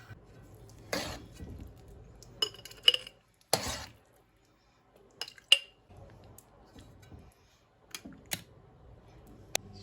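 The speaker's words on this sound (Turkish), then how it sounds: "Şimdi şişeleri dolduracağız." Glass jars being filled with pepper pickle in tomato sauce give off scattered clinks and clicks of glass and utensils, a few sharp knocks spaced apart by quiet gaps in a calm kitchen.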